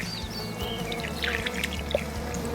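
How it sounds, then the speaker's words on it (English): Water poured from a bucket onto a newly planted seedling in a garden border, a soft steady trickle and splash under faint background birdsong. "I'm going to give it a final little water with what's left in my bucket."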